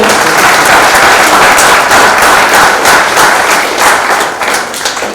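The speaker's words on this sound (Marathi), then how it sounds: "जोरदार टाळ्या झाला पाहिजे" Audience applause fills a prize ceremony for a debate and elocution competition, a dense, steady roar of many hands clapping throughout, loud and close, tapering slightly toward the end, with no talk over it.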